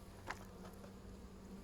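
Honeybees buzz around a hive during spring baseboard cleaning, a faint, steady low drone with a brief closer buzz near the start.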